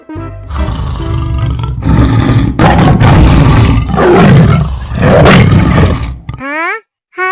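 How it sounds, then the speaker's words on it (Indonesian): A tiger gives loud, close, sustained roars and growls lasting about six seconds, then cuts off abruptly and is followed by a short wavering tone. "Tolong, tolong, ada harimau."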